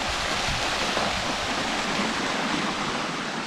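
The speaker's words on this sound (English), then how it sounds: "The waterfall here." Waterfall on the Berkeley River in the Kimberley, Western Australia, a steady broadband rush of falling water, close and loud, continuous with no voices.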